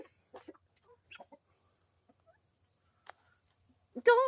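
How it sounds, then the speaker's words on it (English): A pet rooster gives a scattering of soft, short clucks with quiet gaps between them, close to the microphone, ending in a louder, drawn-out call. "Mom gave me that rooster"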